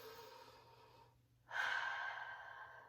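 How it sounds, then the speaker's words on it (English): A deep breath drawn in through the nose and mouth comes after a brief quiet gap, a strong, close, airy inhale lasting over a second over a low steady background hum. "and he took a deep breath in"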